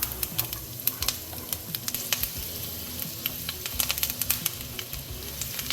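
Thyme and garlic sizzling in a pan, a close crackling fry with frequent sharp pops and spatters over a steady hiss.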